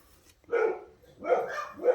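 Dogs bark in a home craft room, three short sharp barks spaced about a second apart, close and fairly loud against a quiet background.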